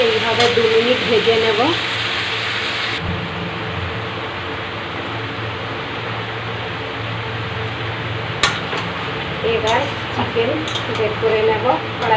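Washed chicken pieces for curry fry in hot oil in a pan, a steady loud sizzle running throughout with a few clinks and scrapes of a spatula near the end.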